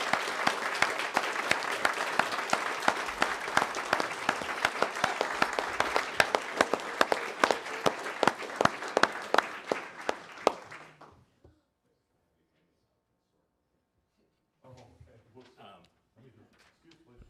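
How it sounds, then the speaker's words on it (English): Audience applause at a Board of Education meeting, a dense round of clapping that fills the room for about eleven seconds and then cuts off, followed by silence and some faint shuffling and voices. "if we could give him a round of applause"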